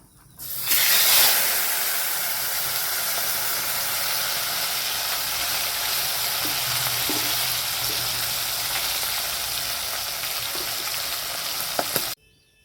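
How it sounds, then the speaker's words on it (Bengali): Rohu fish frying in hot oil: a loud, steady crackling sizzle that starts abruptly and holds evenly for about eleven seconds, with occasional pops near the end. "এই কটাও আমি লাল লাল করে ভেজে নেব"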